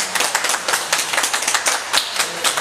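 Applause for a recovered COVID-19 patient, an elderly woman, as she is discharged from a hospital, with dense, steady clapping from a group nearby filling the whole stretch.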